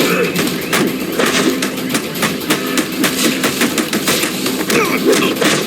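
Rapid bursts of gunfire from the Batman Arkham Origins video game, Cold Cold Heart DLC set in GothCorp, rattle loud and close in dense repeated volleys with thuds, while a voice talks over it.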